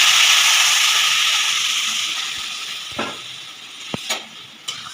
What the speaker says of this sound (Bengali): এরপরে আমি পুরো চিকেনটা ম্যারিনেশন করে রেখেছিলাম, এটা আমি ছেড়ে দিচ্ছি।